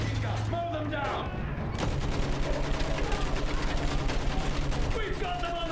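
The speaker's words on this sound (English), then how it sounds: "Use that machine gun. Mow them down." Sustained machine gun fire in the World War I shooter Battlefield 1, a rapid steady stream of shots running through the whole stretch, loud and close, with faint voices and battle noise mixed underneath.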